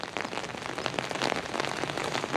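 Rain patters steadily on hard surfaces at the Palace of Fine Arts in San Francisco, a dense, even hiss of drops with scattered closer splashes and no voices.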